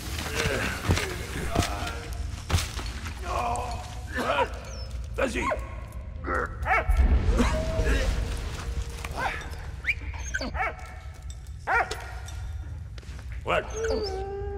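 A dog in the war video game Valiant Hearts barks and whimpers in short repeated bursts against game music and effects, while a person talks over it.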